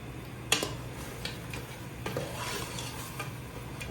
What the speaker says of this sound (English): this is still frying